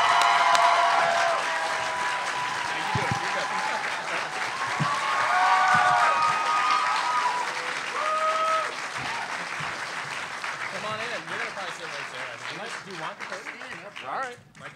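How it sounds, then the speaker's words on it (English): A large comic convention crowd applauds and cheers for a guest actor, a loud sustained roar of clapping with whoops that gradually thins toward the end, while someone speaks over it. "Everybody cheer, come on!"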